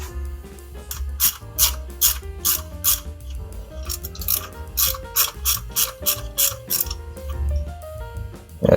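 Rapid ratchet wrench clicks loosen a bolt in the cramped engine bay of a Rolls Royce Silver Shadow II during a power steering belt replacement, coming in quick repeated bursts close up with short pauses between strokes.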